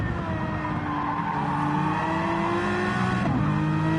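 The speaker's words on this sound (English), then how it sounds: "revving the nuts out of that Aston" An Aston Martin GT3 race car in Gran Turismo at the Nurburgring GP revs hard, a loud continuous engine note climbing and then shifting pitch with faint tyre scrub, no voices.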